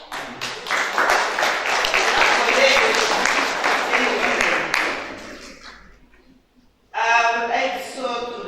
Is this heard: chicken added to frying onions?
no